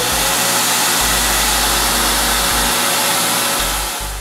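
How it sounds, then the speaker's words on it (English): Steady, loud whooshing roar of a shop vacuum running with a power tool in a workshop, continuous throughout and easing off slightly at the very end. "keeps the shop vac on while the tool is still running"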